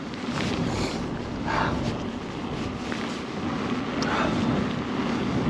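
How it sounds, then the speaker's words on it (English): Strong, cold wind buffets the microphone during an outdoor bike ride, a steady loud rumble with gusty swells throughout and no talking. "But geez, is it ever windy and cold"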